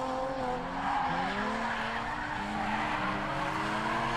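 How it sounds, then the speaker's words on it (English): A BMW drift car skids on a race track with continuous tire squeal and rising, wavering engine tones, loud and sustained for several seconds. "those BMWs are such good little drift cars, especially with decent power."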